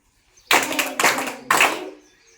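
A classroom of schoolchildren claps together in three sharp, rhythmic bursts, each about half a second long, loud and close, with brief gaps between them.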